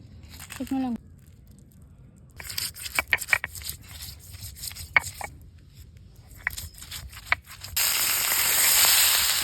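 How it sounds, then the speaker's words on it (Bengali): Coriander being ground into a spice paste on a grinding stone while cooking egg curry: a run of close, rhythmic rough scraping strokes, followed by a steady brighter hiss near the end. "এবার মশলা বেটে নিই ধনে"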